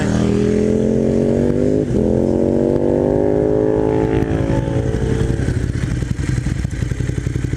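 Sport motorcycles roar past close by, their loud engine note climbing and then sliding lower as the bikes go by and fade.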